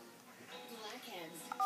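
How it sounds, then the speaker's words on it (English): A telephone number is dialed, a short run of crisp keypad tones near the end over soft background voices and room sound. "Dial her phone number."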